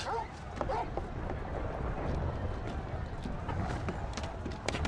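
Torgal the dog barks in Final Fantasy XVI, short yips and woofs scattered through a busy wash of footsteps and game noise.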